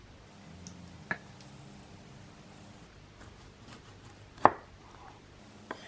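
A sharp, brand-new kitchen knife chops mushrooms on a board, giving a few separate crisp cuts: a light one, a louder one near the middle and a last one at the end, against a quiet background.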